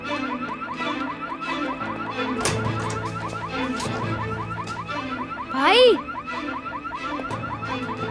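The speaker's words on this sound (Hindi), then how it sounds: "मुझे तो किसी गाड़ी का वार्निंग अलार्म लग रहा है।" A car's warning alarm, part of a dubbed drama scene, sounds as a steady repeating warbling electronic tone throughout, with people talking over it and a brief louder vocal burst near the end.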